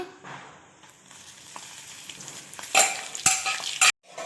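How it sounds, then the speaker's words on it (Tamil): Carrots fry in oil, sizzling softly in a pan, rising to louder bursts of crackling frying with a few metallic stirring scrapes near the end. "கேரட் கலர்ல மாறுற அளவுக்கு நல்லா பொரிய விட்டுக்கோங்க"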